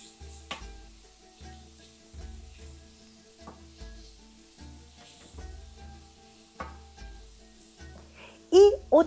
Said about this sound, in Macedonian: Сега ќе го испржам кромидот.